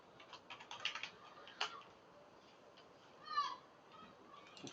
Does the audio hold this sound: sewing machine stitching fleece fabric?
no